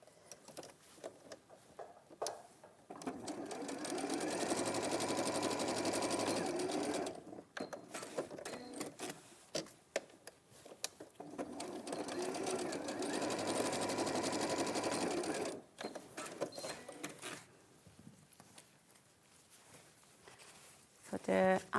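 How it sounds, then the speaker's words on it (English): A sewing machine stitches fabric in two long, steady runs of rapid whirring, separated by pauses filled with handling noise and light talk. "and then I'm gonna sew from here to there"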